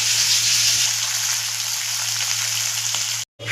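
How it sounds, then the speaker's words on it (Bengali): Fish fry in hot oil, giving a steady near hiss and light crackle that cuts off abruptly near the end. "কমপ্লিট আমার মাছ ভাজা,"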